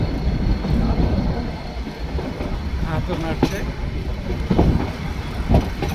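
The Ooty toy train running from Udagamandalam toward Mettupalayam, a continuous rolling rumble with wheel clatter and brief squeals, heard from aboard while a person talks over it.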